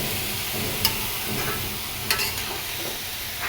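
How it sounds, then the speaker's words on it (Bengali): Fresh papaya being stir-fried in a pan with a little turmeric, giving a soft continuous sizzle with a few sharp clinks of a spatula against the pan. "একটা পেঁপে ভাজি হবে।"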